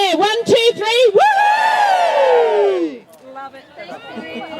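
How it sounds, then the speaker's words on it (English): Wedding guests cheer together with hands raised, a loud burst of whooping and yelling voices that rises, holds for about three seconds, then trails off into scattered chatter. "Now we're all going to let out a big cheer."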